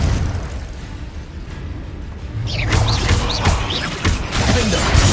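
Heavy magical blasts and crashing rumble from a fire explosion spell in Hogwarts Legacy, a loud continuous roar that swells midway with dense debris and impact layers.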